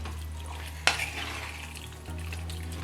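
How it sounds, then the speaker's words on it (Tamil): A village-style chicken roast is stirred in a pan, with a sharp scrape of the utensil against the metal, then soft sizzling and light stirring noises over a steady low hum from nearby. "இதே நல்லா கிண்டி விட்டுக்கலாம்."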